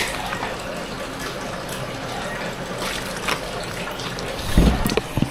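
Water pours and fills a container for drinking, a continuous soft liquid rush close by, ending in a brief louder splash.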